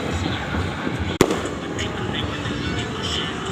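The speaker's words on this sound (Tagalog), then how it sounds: "Buong part 4 ng paputok" A single sharp firecracker bang cracks out amid ongoing outdoor street noise and a distant crowd, with faint talking in the background and no further blasts.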